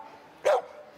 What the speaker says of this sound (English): At Tent City, a barking dog serves as a doorbell.